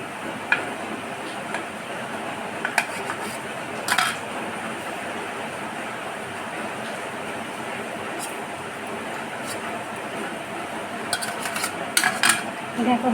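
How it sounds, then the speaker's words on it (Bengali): Steamed egg being cut into pieces inside a bowl, a faint, steady kitchen scrape with a few sparse clicks of utensil on the dish, quiet and with no talking. "এবার আমি পিস পিস করে কেটে নেব।"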